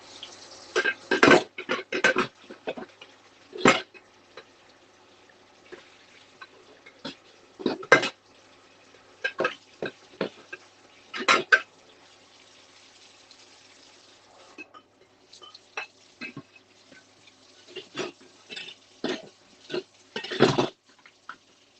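A plate is washed in a sink, with scattered clinks, scrubs and splashes arriving in separate bursts between quiet pauses, close and fairly loud.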